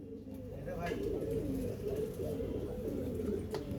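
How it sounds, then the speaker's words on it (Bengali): Several pigeons coo continuously in low, throaty, rolling tones, close by and steady throughout. "দেখুন এবার দাঁড়িয়েছে টুনির পায়রাটা।"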